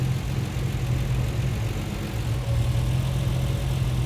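A Triumph TR6 engine, converted from carburettors to fuel injection, idles steadily after a tune-up, a loud, even low rumble with a faint hum throughout.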